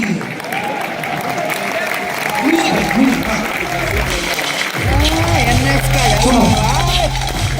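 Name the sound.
audience applause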